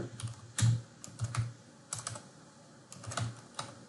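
Keystrokes on a computer keyboard while a landing page is edited, quick irregular bursts of clicks with brief pauses, close and fairly quiet, no speech.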